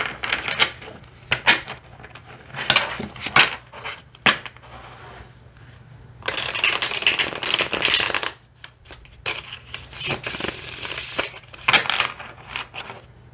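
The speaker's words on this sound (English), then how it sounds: "let's see how it shuffles" A tarot card deck being shuffled up close, with bursts of riffling and fluttering cards, soft taps and slides between them, and two longer continuous riffles in the middle and near the end.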